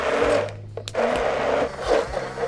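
A blender pureeing tomato sauce for a Metaxa sauce, its motor whirring loud and close in steady bursts, with one brief pause before it starts again.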